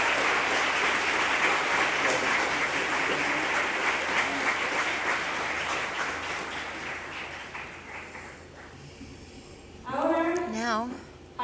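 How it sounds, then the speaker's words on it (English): Sustained audience applause fills a student parliament colloquium hall, dense and steady for several seconds before thinning out, followed by a voice speaking near the end. "Big round of applause for all of them."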